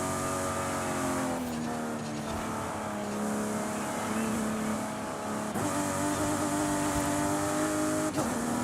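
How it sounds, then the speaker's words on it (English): A BMW race car engine in Gran Turismo 7 drones steadily and loudly at sustained revs, its pitch swelling and dipping through gear changes across the whole stretch, with no talk over it. "Man, BMWs used to sound so good."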